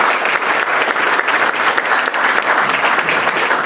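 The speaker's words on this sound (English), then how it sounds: "give him a round of applause to welcome him to the podium" An audience applauds in a dense, steady wash of clapping to welcome an artist, a film and painting educator, to the podium at an artist talk. The clapping stays loud and sustained for the whole stretch, with no voices on top.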